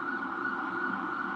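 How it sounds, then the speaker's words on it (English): A siren wails steadily and loudly throughout, a continuous electronic tone with no talk over it. "You hear that siren?"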